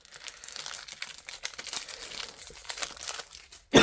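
A foil trading card booster pack from a waifu card box is torn open up close, with continuous crinkling and ripping of the wrapper and a sudden loud burst at the end.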